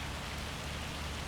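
Rain falling steadily in Farming Simulator 25, a dense even hiss of drops with no breaks or changes.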